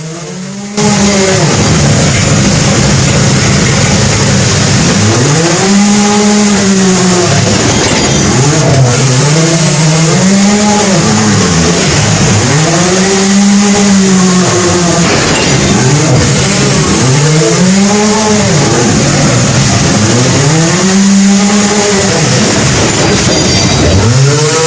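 Underground mine mucking machine filling a mine car, a loud, continuous engine drone that rises and falls in repeated revving cycles every few seconds, with clanking and rattling, close and steady throughout.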